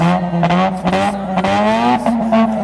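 A 2012 Mazda RX-8 Spirit R with its rotary engine revved hard at full throttle, a loud, buzzy rising and falling howl in several close bursts with a sharp harmonic whine.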